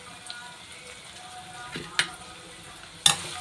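Three green chillies, a few pieces of ginger and a small garlic clove fry in a pan for egg masala curry, with a soft, steady sizzle broken by occasional clinks of stirring.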